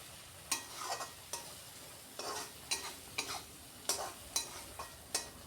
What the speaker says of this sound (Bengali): আরও কিছুক্ষণ এটাকে আমি কষিয়ে নিলাম।